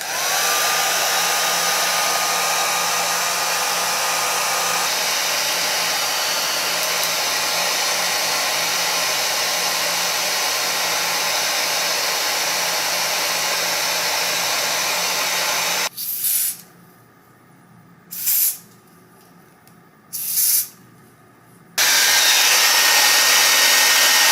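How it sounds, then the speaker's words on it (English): Hair dryer blow drying a lace wig, a loud steady whooshing roar close by that cuts out and stutters off and on several times before running continuously again, no voices. "And now I'm just gonna blow dry it, push it all down."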